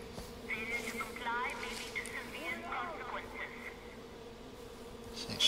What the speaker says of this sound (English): There's a lot of bees in this place. Look, there's a bee's nest up there.